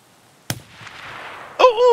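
A single sharp sniper rifle shot in a shooter video game cracks loud and close, then trails into a brief rumbling decay before a voice cuts in.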